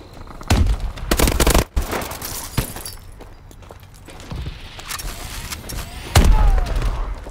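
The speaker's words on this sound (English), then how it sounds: "those bitches are shooting laser at me though" Laser gunfire from Call of Duty Advanced Warfare multiplayer: loud bursts of sci-fi shots with sharp cracks and thuds, several clustered volleys in the first two seconds and another heavy burst near the end, over a continuous noisy battle backdrop.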